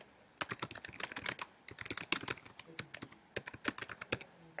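Rapid typing on a computer keyboard, close and crisp, with bursts of key clicks separated by short pauses and no talking.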